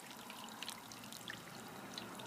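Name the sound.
excess oil dripping from pan-fried noodles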